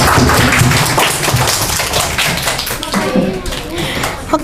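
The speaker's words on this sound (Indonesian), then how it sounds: "Tepuk tangan dulu dong." Schoolchildren clapping together in a primary school classroom, loud, close and busy, with rapid claps mixed with chatter and children's voices throughout.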